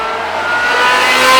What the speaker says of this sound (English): The sound from that flat plane crank,